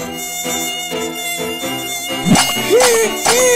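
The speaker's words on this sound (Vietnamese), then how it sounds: "Và từ đâu lũ ruồi xuất hiện." Steady, droning buzz of flies around a cut watermelon over a busy background, with a few short squeaky chirps breaking in toward the end.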